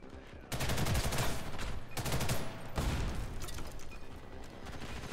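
Gunfire in a free-to-play video game: rapid automatic bursts crackle close and loud in several strings separated by short gaps, with no distinct grenade blast standing out.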